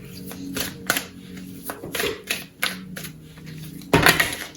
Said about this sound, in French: elles sont très grandes, ces cartes, que c'est compliqué pour les battre